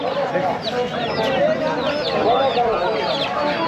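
Chickens clucking at a busy rural bird market in Bangladesh where ducks and local chickens are sold, steady overlapping clucks amid crowd chatter and market noise, with people talking nearby.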